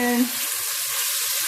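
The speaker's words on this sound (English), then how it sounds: "fry it around in the pot" Ground homemade seasoning hisses and sizzles in olive or avocado oil in a pot, a short, bright crackle heard on its own.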